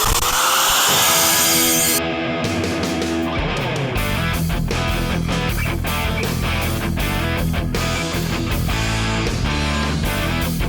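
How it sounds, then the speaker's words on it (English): An angle grinder cuts into thick, heavily welded steel link mounts on a one-ton Toyota axle build in a shop, a loud, close, continuous grinding whine that rises and falls in pitch as the disc bites, with no talking. "there's going to be quite a bit of grinding to get these things cleaned off"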